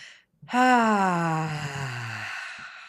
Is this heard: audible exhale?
yes